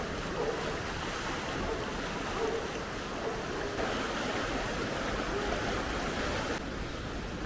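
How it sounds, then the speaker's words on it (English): A small, very cold, fast-flowing river in Edessa, Greece, rushing toward a waterfall makes a steady, dense roar of water with no pauses, close by and even in loudness throughout. "This little river here is going towards the waterfall. It is super cold and it is flowing really, really fast"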